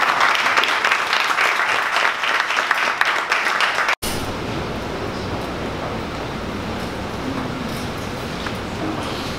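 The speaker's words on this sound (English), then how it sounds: "One more round of applause" Audience clapping at a 1MC community gathering in Dallas, a thick, steady burst of many hands for about four seconds. It cuts off abruptly, and a dull, continuous rumbling background noise follows.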